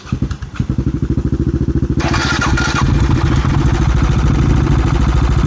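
A CCM Stealth Bobber 600cc motorcycle engine cranks with rapid chugging pulses, catches and roars, then settles into a loud, steady idle close by.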